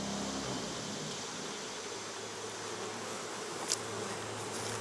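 Honey bees from hives kept down in a swamp buzz steadily through a fall honey flow, a dense continuous hum filling the whole stretch with a faint brief tick near the end.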